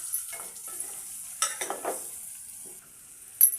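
Eggs frying in a pan with onions and turmeric give a soft, crackling sizzle with a few louder spits and scrapes, fairly quiet and close, with no talk.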